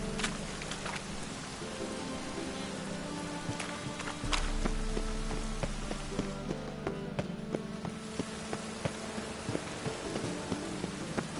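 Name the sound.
rain falling in The Witcher 3 video game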